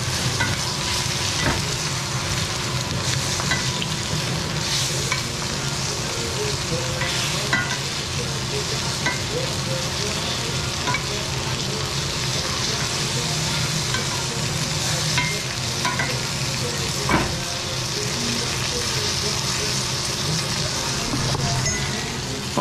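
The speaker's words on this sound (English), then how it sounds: "Now you have to baste it." Butter basting a sous vide steak in a hot pan, a steady loud sizzle and frying crackle running throughout with occasional spoon clinks against the metal.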